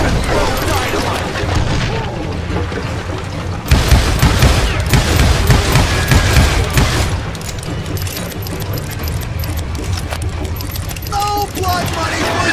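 Dynamite blasts and a flurry of gunshots in the Western shooter Call of Juarez Gunslinger, a loud boom leading into sustained close gunfire and rumbling explosions, with voices talking throughout.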